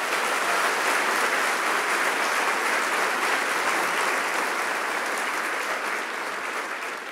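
A church congregation bursts into steady, loud applause praising the Lord during a sermon, a dense roar of many clapping hands sustained throughout and tapering only slightly at the end.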